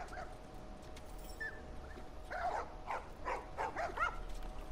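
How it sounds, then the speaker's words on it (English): A dog in the video game The Last of Us gives a run of short yips and whimpering barks, moderately close, over a low steady ambient hum, with no talk in between. "A dog?"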